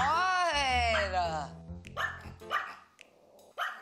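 Dogs indoors let out a long rising whine followed by several short, sharp barks at close range.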